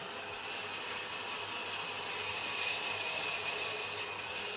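A saw cuts through wood during the turning of a rare butterfly-wing vase, giving a continuous loud whine with a steady hum that stays even and unbroken from start to finish.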